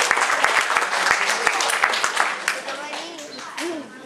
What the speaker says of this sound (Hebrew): בואו נקבל בבקשה במחיאות כפיים